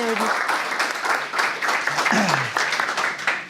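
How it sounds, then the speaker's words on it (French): Audience at an agave festival conference applauding a speaker as he is welcomed, steady clapping from many hands with a voice talking and a few voiced calls over it. "je vous demande d'applaudir Domingo"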